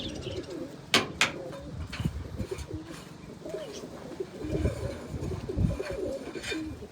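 Pigeons, including young birds, coo softly and steadily from close by in a loft, with a few sharp knocks and brief flutters mixed in and a faint murmur of background activity.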